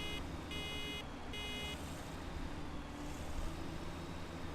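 In a farming simulator video game, two electronic reversing beeps sound over a steady rumbling vehicle engine, then the engine drones on alone.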